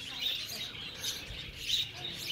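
Small birds chirp and tweet steadily inside a walk-in bird cage, a soft continuous twittering heard at moderate distance without speech.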